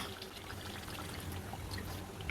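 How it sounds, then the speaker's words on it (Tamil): Water is poured into chicken gravy in a home kitchen, a soft continuous trickle and splash at moderate distance ending in a louder knock. "இப்போ நம்ம இதில் கொஞ்சமாக தண்ணி சேர்த்துக்கலாம்"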